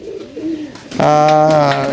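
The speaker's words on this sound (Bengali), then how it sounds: "কবুতরগুলা খাবার এখনও দেয়নি খাবার খাওয়ার জন্য ব্যস্ততা দেখাচ্ছে" Domestic pigeons waiting for their feed coo loudly and close by, a quieter stretch of low calls giving way to a strong sustained burst in the second half.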